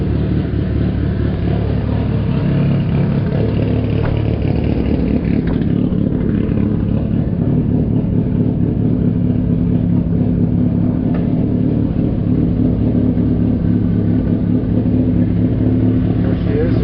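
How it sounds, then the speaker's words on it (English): A Lexus IS500's 2UR-GSE 5-liter V8 runs with the hood open, a loud, steady rumbling idle with light mechanical clatter heard up close for the whole stretch. "There she is, the 2UR GSC motor, 5-liter V8."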